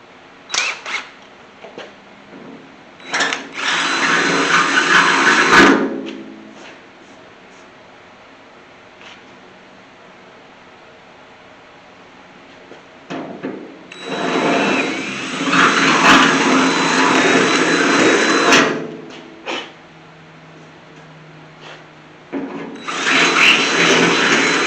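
Power drill spinning a bit just larger than the holes to clean paint out of them during body work on a 1981 Chevy C10 shortbed squarebody; three loud bursts of whirring, separated by quiet pauses.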